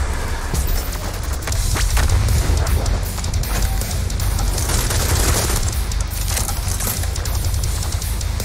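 A BFG 10,000 in the Doom Eternal video game fires in a loud, sustained barrage of booming, crackling blasts that rumble continuously without pause, with no talking over it.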